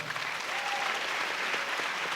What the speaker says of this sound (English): please a big applause for them as well